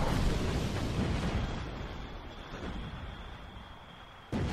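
Torpedoes striking a ship in the Battlestations Pacific naval video game give a dense, roaring explosion rumble that slowly fades, with a high faint tone lingering and a sudden new burst at the very end.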